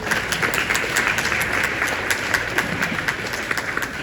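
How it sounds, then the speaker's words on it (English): A room full of people gives a round of applause after a strategic plan presentation on patient-centered care, with a brisk, even patter of clapping hands lasting a few seconds. "a big round of applause for the big thinking that went into this"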